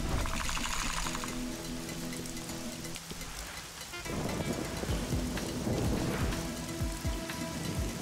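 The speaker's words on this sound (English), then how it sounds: "Yeah, of course it would rain here." Rain pours steadily in the video game Guacamelee!, a close, continuous patter with low thunder rumbling underneath that swells again in the second half.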